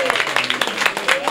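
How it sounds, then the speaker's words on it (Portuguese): A crowd at a poetry and writers' gathering applauds in a brief burst of clapping, with a voice speaking over it. "salva de palmas pra essa galera toda"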